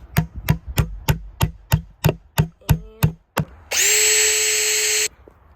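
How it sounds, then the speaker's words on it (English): A power drill whirs in one steady burst lasting about a second and a half, after a run of evenly spaced hammer blows nailing together a wooden birdhouse. "the only power tool you'll need for this project is a drill"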